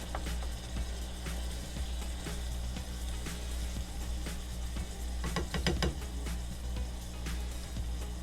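Ground meat browns for bean-free chili in a pan, a steady close sizzle with scattered crackles and a brief burst of scraping stirs midway, no talking over it.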